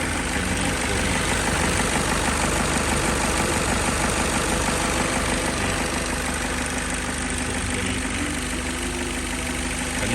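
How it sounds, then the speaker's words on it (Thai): A Toyota 2KD diesel engine idles loudly and close, with a steady rattling clatter and low rumble that holds unchanged throughout. "เครื่องยนต์เป็นสองเคดีเอฟ"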